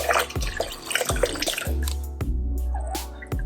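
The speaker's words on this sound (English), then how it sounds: "look at how disgusting this fluid is. This is crazy coming out of the rear differential." Old, dirty fluid draining from the rear differential of a BMW F30 340i, a steady liquid pour and dripping with intermittent thuds and clinks of workshop activity, close and fairly loud.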